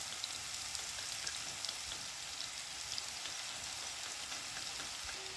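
Mushrooms fry in a pan with a steady, soft crackling sizzle full of tiny pops, fairly quiet, with no voices.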